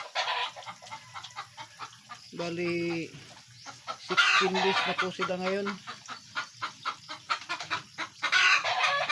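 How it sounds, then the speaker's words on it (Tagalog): Chickens cluck and a rooster calls in short bursts on a noisy farm, with a person talking briefly partway through. "Saka ito po yung manok ko guys"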